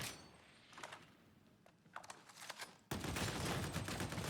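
Gunfire from a braced weapon in Warhammer 40K: Darktide: a quieter stretch of scattered sharp cracks and mechanical clatter, then a sudden loud, dense roar of continuous firing.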